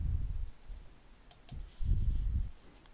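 A computer mouse clicks on an Apply button in simulation software. A few small, sharp clicks sit quietly over a low background rumble that swells and fades.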